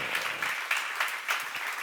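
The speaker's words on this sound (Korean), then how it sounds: "여러분이 포기하고 만날 수 있는 그 짝이 좋은 짝이라고 믿는 사람 한번 박수 줘봐." A brief burst of applause from a seminar audience at a church gathering, soft and somewhat distant with a few distinct claps rising over the patter.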